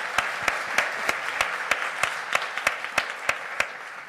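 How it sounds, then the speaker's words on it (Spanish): A crowd at a 2018 Colombian presidential debate with children claps steadily, with a few sharp, evenly spaced louder claps standing out over the general applause. "Un fuerte aplauso, por favor."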